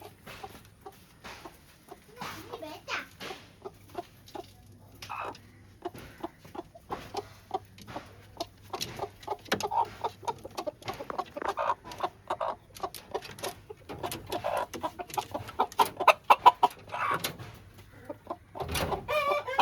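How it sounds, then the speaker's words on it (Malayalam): Several chickens cluck in short bursts, close by and fairly quiet, with occasional louder squawks toward the end. "കുറെ കോഴികൾ ഇതിന്റെ അകത്തുണ്ട്"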